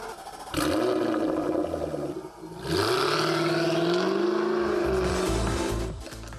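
A Jaguar F-Type R all-aluminum coupe with a 5-liter V8 roars loudly, revving up, dipping briefly, then surging again in a sustained close engine howl that eases at the end.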